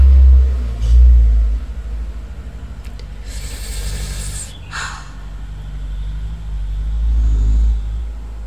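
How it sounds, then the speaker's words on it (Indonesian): A truck passes outside a room, heard as a loud, deep low rumble that swells, fades and swells again over several seconds. No speech accompanies it. "Oh my god, truk lewat dong."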